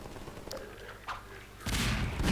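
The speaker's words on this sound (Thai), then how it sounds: "ขอโยนระเบิดไปแล้วกัน" A burst of explosive noise from a thrown grenade erupts near the end, loud and broad, following muffled thuds and distant game sounds in Half-Life 2.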